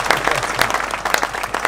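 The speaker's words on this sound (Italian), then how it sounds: "Benito Piccinno, forte l'applauso." Audience at a CD presentation clapping hard, a dense burst of many hands with sharper individual claps standing out, loud and close.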